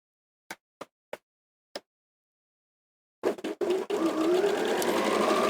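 A sewing machine stitches all the way around a bag: four sharp clicks come first, then a pause, then several taps before the motor starts a steady, close run of stitching.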